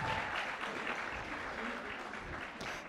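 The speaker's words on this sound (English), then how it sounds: "I'd like the parents just to give them a round of applause, just to congratulate our graduates." A crowd of parents applauds Grade 7 graduates at a school farewell luncheon in Lusaka, a short burst of even, continuous clapping at moderate distance.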